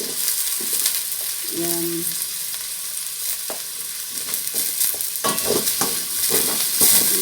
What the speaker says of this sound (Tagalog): Lagay na natin ang ating kikiam